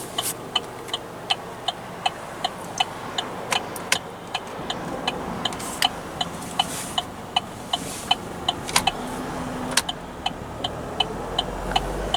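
A Chevrolet Trailblazer 2.5 LTZ on a test run after a gearbox overhaul, with a steady mid-level road and engine drone and a regular clicking tick running throughout, no voices.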